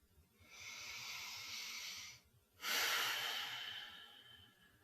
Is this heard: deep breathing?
yes